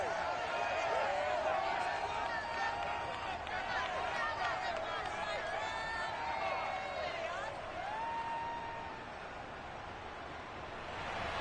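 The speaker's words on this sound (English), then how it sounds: "this crowd loud enough to shake the foundations of this nearly century-old building" A stadium crowd in Madden NFL 22 roars as a steady, dense wall of cheering and whooping under continuous talk, slightly easing toward the end.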